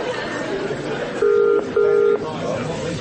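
Two steady electronic telephone tones from a phone being dialed, each lasting about half a second, heard over a busy murmur of background noise and chatter.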